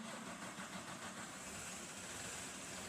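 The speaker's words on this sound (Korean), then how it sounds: "크랭킹을 실시합니다." A four-cylinder car engine cranks without starting, its EGR poppet valve broken, giving a steady, faint mechanical churning rumble with no voices.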